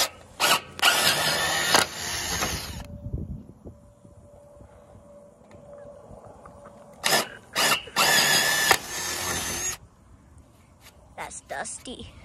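A power drill bores bolt holes in wood for a mobile pig shelter in several loud, close bursts of whining motor and grinding bit, with quieter pauses in between.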